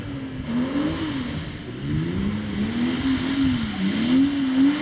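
BMW 330 drift car revving hard at a drift round at Biķernieki, engine note rising and falling continuously for several seconds, loud and fairly close with no talk.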